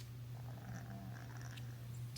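A pet cat purrs in a steady, low continuous drone, close but quiet, alone with no talk.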